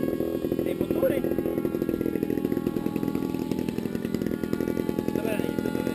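The small electric motor of an RC paper airplane drones steadily and buzzes throughout, a continuous nearby whir with faint voices in the background.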